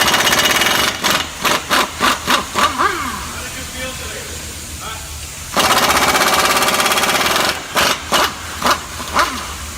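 An impact tool removes bolts from a Toyota Tundra 4x4 front wheel bearing, firing in loud, close bursts of rapid hammering with two longer sustained runs and short gaps between.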